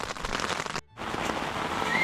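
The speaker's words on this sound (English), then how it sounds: "They got back from getting water just as it was starting to rain." Steady rain hissing on a tent in the mountain backcountry, a dense continuous patter with a brief dip partway through, then resuming just as loud.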